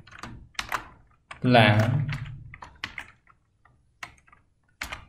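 Quick keystrokes tapped on a computer keyboard while coding in Matlab, short clicky bursts near and clear, interleaved with someone talking.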